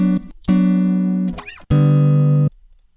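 Guitar loop sample heard twice, first dry and then with RC20 noise, distortion and widening: two sustained, bright chords separated by a short bending, wavering gesture, loud and alone.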